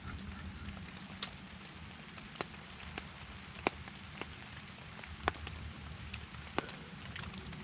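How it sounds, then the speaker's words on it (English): Rain falls on a camping tent overnight, a soft continuous patter broken by scattered louder drips striking the fabric at irregular intervals, faint and close. "It has been raining all night."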